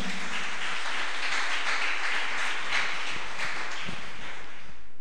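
A church congregation applauds with dense, sustained clapping that fills the room evenly for about five seconds, and no voices are heard over it.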